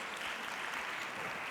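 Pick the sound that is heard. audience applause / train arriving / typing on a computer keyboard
audience applause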